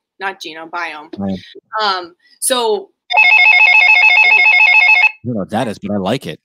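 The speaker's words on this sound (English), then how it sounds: "Like a real landline phone?" A landline telephone rings in a steady electronic trill for about two seconds, set between stretches of people talking nearby.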